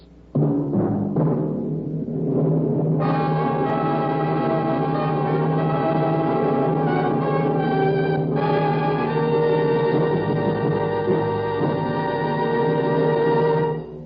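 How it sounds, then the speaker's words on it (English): NBC radio network's three-note chimes from a 1952 broadcast ring out as mellow bell-like tones. Three struck notes lead into long sustained, overlapping ringing that stays loud and clear with no speech over it. "3 chimes mean good times on NBC"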